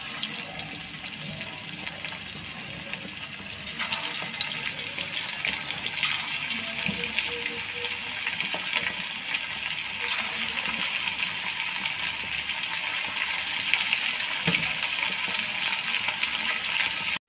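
Chicken pakora pieces frying in hot oil, a continuous loud rushing sizzle that holds steady throughout with occasional small pops and no talking.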